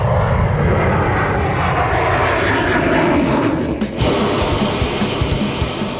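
An F-14 fighter jet's engines roar steadily as it takes off down a runway, a loud, continuous broadband rumble that holds level for several seconds with a brief dip near the end.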